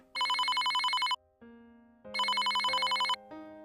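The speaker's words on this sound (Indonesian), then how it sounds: "Ponselnya berdering, rupanya Cecilia yang menghubunginya." A mobile phone rings in two long electronic trilling bursts separated by a short pause, with a steady background tone playing between them.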